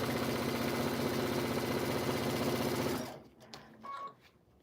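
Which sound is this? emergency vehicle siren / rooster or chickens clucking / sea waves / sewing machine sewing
sewing machine sewing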